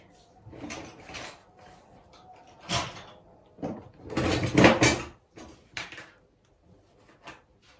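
A household drawer pulled open and rummaged, giving irregular wooden knocks, scrapes and rustling bursts of objects shifting, close and moderately loud with pauses between.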